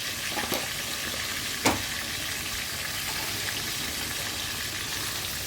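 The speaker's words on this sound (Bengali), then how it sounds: "এইভাবে পনিরগুলোকে একটু গ্যাসের ফ্লেমটা বাড়িয়ে ভালো করে ভেজে নেব।" Paneer cubes frying over a high gas flame, a dense, even sizzle running throughout, close and loud, with one or two sharp pops or clinks.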